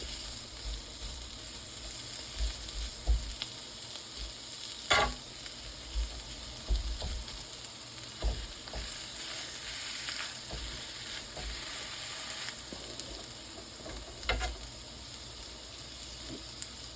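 Shaved beef for a Philly cheesesteak frying on a hot surface, a steady close sizzle and hiss throughout with scattered small clicks and spatula taps, no talking.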